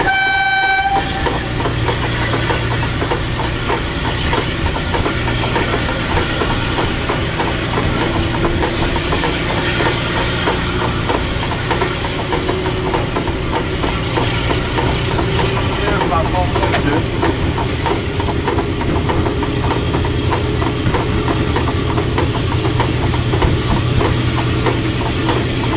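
A D1062 diesel locomotive engine drones loudly and steadily, its low rumble building as it revs, with a brief horn at the start and voices underneath.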